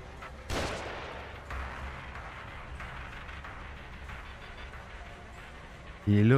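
Gunfire aimed at the player in The Evil Within, a sharp loud shot near the start followed by a sustained rumbling of shots and ambient game noise, with a louder burst at the end.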